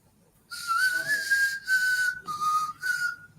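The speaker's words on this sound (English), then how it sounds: "Whistling's not for everybody." A person whistles a wavering, sliding tune in three or four phrases outdoors at a lodge in Sierra Leone, clear and close, with brief pauses between phrases and a faint background hum.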